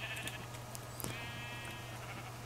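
Sheep bleating in the modded Minecraft pack SevTech Ages: one short game bleat near the middle, heard alone over a steady low hum.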